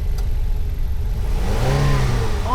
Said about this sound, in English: Out of nowhere, Evelyn smashes the car into the huge monster, stunning it momentarily.